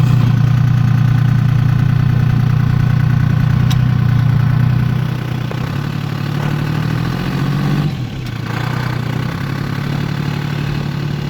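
A two-stroke diesel Toyota engine running during a test drive after a cold start: a loud, steady low-pitched drone that drops slightly in level halfway through, with a brief clunk near the end and no talking.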